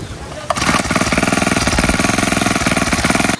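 A grass cutter engine starts up and runs with a loud, steady, rapid pulsing drone, close by, with no talk over it.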